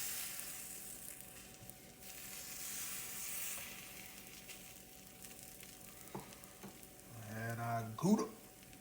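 Grilled cheese sandwich with cheddar sizzling in a frying pan, a soft steady fry under room hum, then a short scrape and a louder flurry near the end as it is flipped, with a voice briefly heard.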